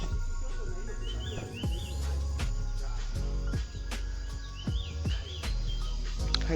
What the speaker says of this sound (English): Can hear some birds chirping in the background.